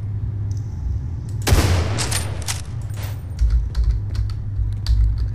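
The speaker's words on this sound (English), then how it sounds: "I have a gun for this." Gunfire in the horror game Underhell: a sharp burst of shots with short follow-up pops, mixed with keyboard clicks and low ambient game hum.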